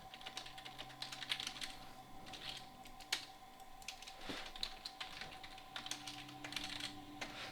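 Computer keyboard keys click in quick irregular bursts during copy and paste while scripting, soft and close with brief pauses between runs of taps.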